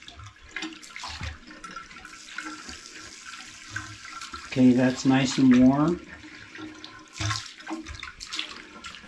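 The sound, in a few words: water running through repaired Price Pfister shower valve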